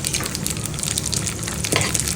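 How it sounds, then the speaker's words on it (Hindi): Flax seeds roasting in hot ghee in a pan, giving a steady, close crackling sizzle with fine popping and scraping textures that continues evenly throughout. "और अब ये जो फ्लैक्स सीड्स हैं, अलसी के बीज, वो हम इसमें भून लेंगे।"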